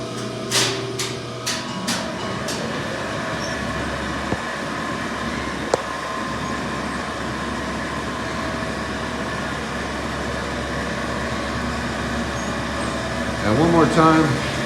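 A 1968 Dover 214 elevator hoist machine runs in a machine room with a steady low mechanical hum and drone. Several sharp clicks or clunks come at the start, and a brief rising whir or squeal follows near the end.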